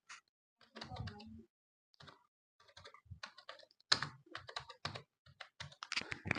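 A computer keyboard is typed on to enter a full name into a university registration form, giving irregular bursts of close, crisp key clicks separated by brief pauses.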